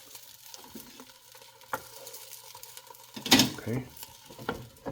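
Frozen scallion pancakes cooking on a Chefman Everything Maker, a faint close sizzle with occasional clatter and a louder burst of sizzling near the end; someone says a brief word.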